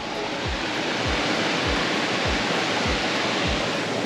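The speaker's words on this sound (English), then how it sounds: "I've walked upstream and there's another set of waterfalls up here." Loud, continuous rushing roar of a waterfall upstream near Ella, Sri Lanka, broadband and steady, with low thumping pulses recurring every half second or so.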